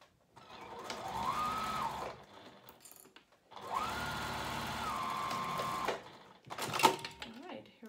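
Sewing machine stitching the lining of a foldover fabric pouch, two long steady runs of close mechanical whirring with a brief pause between, then a short burst and a few clicks at the end.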